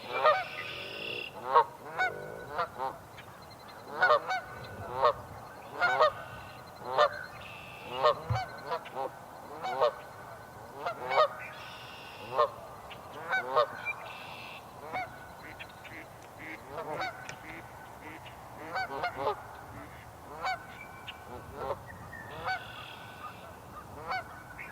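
Waterfowl call repeatedly from across a lake, a steady series of nasal honks and quacks with an irregular rhythm, moderately loud and slightly distant over outdoor background noise, with no talking.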